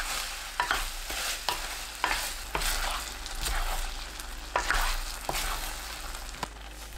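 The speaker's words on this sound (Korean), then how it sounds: "양념이 끓어오르면 메추리알, 마늘 넣고 중불로 3분 볶아주세요" Quail eggs and garlic stir-frying over medium heat in bubbling seasoning, a steady sizzle broken by repeated scraping strokes of a spatula at a loose, uneven rhythm, close and moderately loud.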